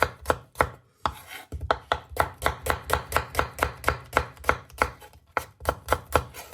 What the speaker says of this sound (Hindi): ऑनियन भी आप जितना पतला हो सके काट लें।